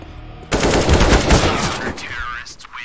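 Sustained automatic AK rifle fire in CS:GO, a loud, dense burst of rapid shots lasting about a second and a half, then fading into ringing game ambience.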